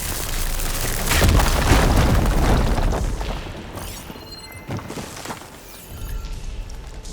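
A video game blast breaks something open underwater, giving a heavy booming rumble with crackling debris that swells, holds loud for a few seconds, then tapers off into quieter splintering bursts.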